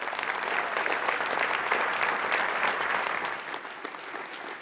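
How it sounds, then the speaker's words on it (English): An audience at a Boys and Girls Clubs of South Puget Sound event applauds an honoree, dense even clapping held for several seconds before it thins and tapers off near the end. "Can we give her one more round of applause?"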